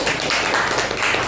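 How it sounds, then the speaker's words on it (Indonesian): A classroom of students claps for a student group, a short, loud and dense patter of hands that stays constant from start to finish. "Tepuk tangan untuk kelompok"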